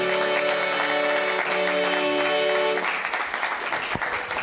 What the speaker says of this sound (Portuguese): Uma salva de palmas às famílias.